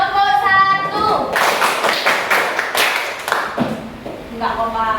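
A classroom of students claps in unison during a clapping chant, sharp group claps in short rhythmic sets, with children's voices chanting between them.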